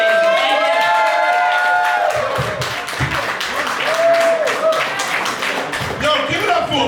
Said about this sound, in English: Yo, clap it up, man.